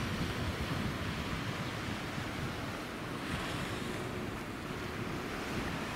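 Ocean surf rolls in continuously at Côte des Basques beach in Biarritz, a steady broad wash of breaking waves with some wind rumble, loud and close, with no voices.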